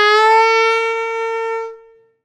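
A single sustained reedy saxophone note, bright and harmonically rich, scooped up past the target and holding steady at a sharp pitch before fading out, played alone.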